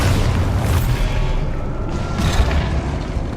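Rumbling boom of the Expulso explosion spell in the video game Hogwarts Legacy, a dense, loud low blast that holds steady for several seconds amid continuous game noise.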